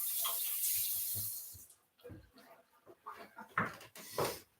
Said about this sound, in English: first thing I do is wash your hands